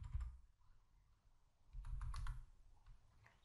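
Faint key taps and clicks on a computer keyboard as code is typed, a short burst of quick presses after a brief pause, soft and close.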